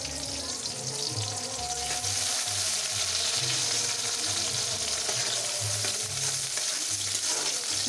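Spice masala frying in a pan at home, a steady, close sizzle running throughout with scraping stirs and low rhythmic thuds beneath, no voices.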